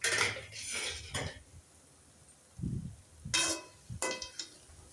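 Egg is stirred in a pan, heard as a few short metal utensil scrapes and clinks against the pan in bursts, with quiet gaps between them.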